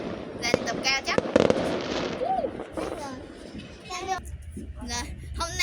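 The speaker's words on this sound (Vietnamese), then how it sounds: "hôm nay có đốt pháo hoa luôn nha" Firecrackers and fireworks go off during a Lunar New Year celebration in Vietnam, with several sharp bangs and crackling bursts at varying distances, mixed with people and children talking nearby.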